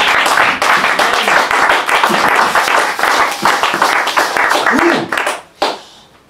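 A church congregation claps and applauds loudly and steadily for about five seconds, then the clapping cuts off and a short call rings out before quiet.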